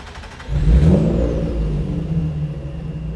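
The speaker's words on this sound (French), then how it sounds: "t'appuies ici sur le bouton pour la démarrer" A Jannarelly Design 1 sports car starts up with a sudden loud burst, then settles into a close, rumbling idle with slight revs, no talking.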